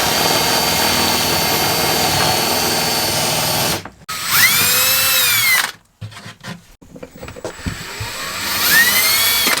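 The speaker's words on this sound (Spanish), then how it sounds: "tienes el taladro lejos por acá y hace el trabajo" A power drill with an angle attachment whirs loudly at close range, stopping and restarting with rising and falling pitch as it drives in bursts; no one speaks.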